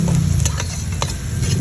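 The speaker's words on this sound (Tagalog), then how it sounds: "Haluin lang natin." Sautéed pechay stirred in a Salad Master pan over high heat, with steady sizzling and repeated scraping stir strokes, close and alone.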